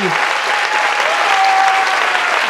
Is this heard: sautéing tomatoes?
no